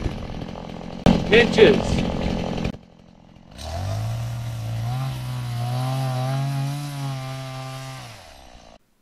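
A chainsaw cuts wood while forest is being cleared for a garden, its engine droning steadily and loud after a short burst of speech and clatter.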